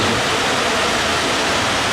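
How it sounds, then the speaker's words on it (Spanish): Steady rain falling outdoors, a loud, continuous dense hiss with no breaks and no voices. "pero hoy está lloviendo"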